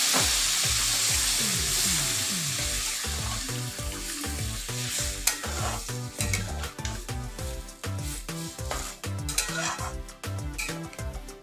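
Jackfruit curry (echor kaliya) sizzles loudly in a pan as water goes in, the hiss surging at first, then steady scraping stir strokes sound in a quick repeating rhythm, close by.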